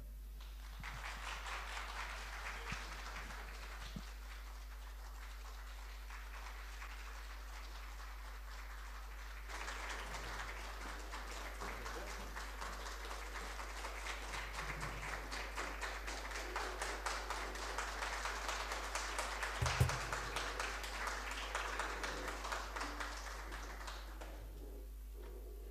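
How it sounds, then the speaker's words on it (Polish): A live audience gives sustained applause for the Swing Quintet in Lublin, a dense wash of clapping that swells slightly toward the end, heard somewhat distant under a steady low hum. "Ale dostaliśmy brawa"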